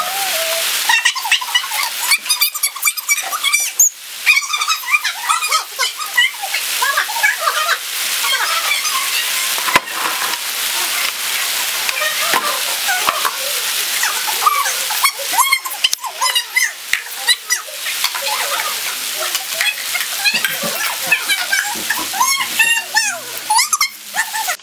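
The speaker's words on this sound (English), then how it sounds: "It's like pouring." Heavy rain pours and splashes nonstop into a backyard pool, with crackling spatter and bursts of dripping close by.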